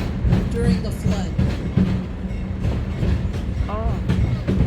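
The Duluth river train rumbles along the track with an irregular clatter and squeak of its cars, while people talk over the noise throughout.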